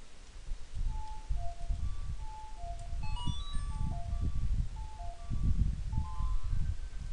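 A short melody of clear, pure tones in Zelda: Ocarina of Time, the song that freezes enemies, plays over a steady background rumble and rustle, ending with a quick rising run of notes.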